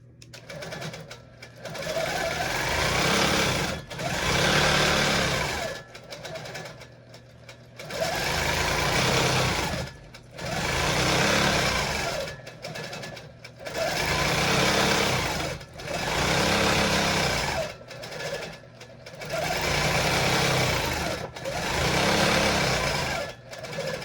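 A sewing machine quilting along a ruler runs in steady, loud bursts of a few seconds each, separated by short pauses, with a close, continuous mechanical whir throughout.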